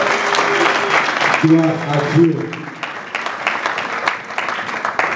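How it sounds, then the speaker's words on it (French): Congregation in a church applauding loudly, a dense broadband clatter of many hands filling the room throughout, with a voice speaking over the clapping. "Quelqu'un applaudit très fort."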